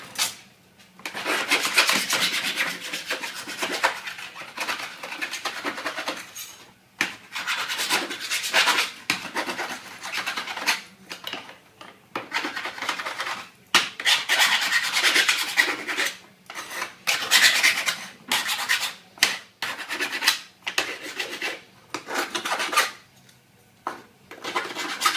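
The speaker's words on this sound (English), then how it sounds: "file all your sharp edges off" A metal file rasps sharp edges off a steel cable tray bracket, with repeated close, loud back-and-forth strokes in steady bursts and brief pauses, and no talking.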